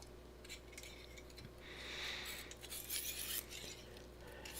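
A small knife blade is drawn across a fine oiled sharpening stone held in a guided sharpening kit, making soft rasping strokes that repeat and swell in the middle, with no talking.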